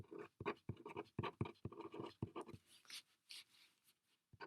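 A number is written by hand in a quick series of close, scratchy pen strokes, then softer rubbing and faint scratches.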